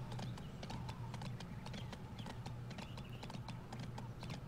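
Quiet, evenly spaced hoofbeats of a horse trot along in Go Vacation, set low under a steady hum of game ambience.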